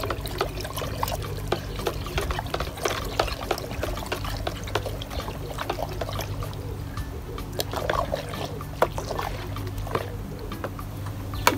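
Liquid compost and wetting agent are stirred into water, a continuous close splashing and trickling with small irregular sloshes, heard without speech.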